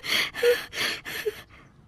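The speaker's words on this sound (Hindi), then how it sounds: "अपना गला साफ कर रहे हैं" A man loudly clears his throat early in the morning at home, four harsh, rasping bursts in quick rhythm before a faint trailing breath.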